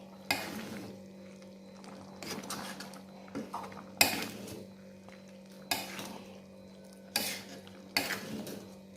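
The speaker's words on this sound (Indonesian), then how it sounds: "Aduk lagi." Chicken liver and gizzard stirred in a pan, with a utensil clattering and scraping against the metal in five or six distinct bursts over a low, steady sizzle.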